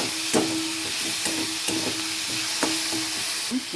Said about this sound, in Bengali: দিয়ে দিলাম সামান্য লবণ, যাতে পেঁয়াজটা তাড়াতাড়ি ভাজা হয়ে যায়।